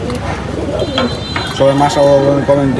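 Pigeons kept in a home loft coo softly and repeatedly, nearby, in low rolling calls that grow stronger toward the end while a person speaks over them.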